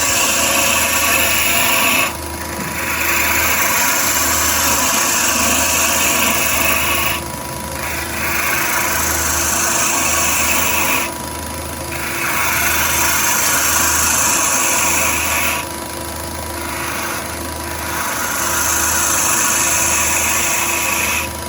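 A wood lathe runs steadily while a bowl gouge makes roughing cuts on a goblet, giving a loud continuous whir and hiss of the tool on spinning wood, with brief drops in level as the cutting pauses.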